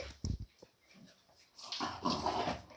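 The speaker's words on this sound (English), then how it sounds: "Now my dog starts to bark." A pet dog barks and growls in short bursts, angry and scared, indoors among clocks, with a louder, denser stretch of noise toward the end.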